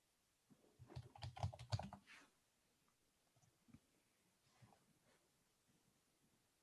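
Quiet keyboard typing during a policy committee meeting: a quick cluster of soft keystrokes early on, then sparse scattered taps fading into near silence.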